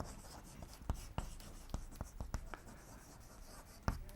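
Chalk or marker writing on a classroom board, a series of sharp taps and scratchy strokes at an irregular rhythm, close and clear with no talking.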